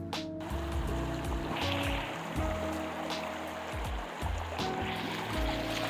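Rapid river water in the Smoky Mountains, its flow diverted into a fast current, rushes and churns without a break, loud and close, with lower gurgling surges and no voices.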